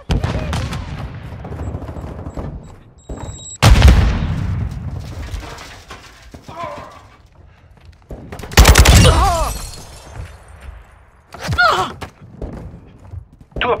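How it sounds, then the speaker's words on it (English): Bursts of gunfire and a loud stun grenade blast in a hardcore-mode first-person shooter, sharp impacts recurring over the match's background noise, with a few faint game voice callouts. "Throw in a stun grenade."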